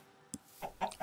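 Chickens in the Minecraft video game cluck in a few short, separate bursts, moderately loud and close, with no talking over them.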